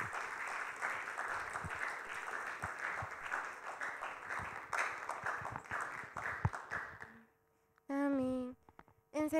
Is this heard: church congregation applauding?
yes